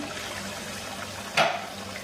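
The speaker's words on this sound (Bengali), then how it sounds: "এখন আমি ফাইনালি পানি দিলে নেব।" A quick splash of hot water pours into a pot of spicy beef curry with button mushrooms, a single brief gush that stands out against steady cooking noise.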